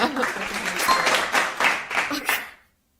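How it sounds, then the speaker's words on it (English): Audience applause at a live talk show, a dense burst of clapping lasting a couple of seconds before cutting off abruptly into silence. "Applause."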